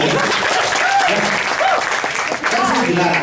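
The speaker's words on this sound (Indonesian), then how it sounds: "tepuk tangan dong, bingung." A stand-up comedy show audience in a coffee shop applauds in a steady, loud burst, with voices and laughter mixing into the clapping throughout.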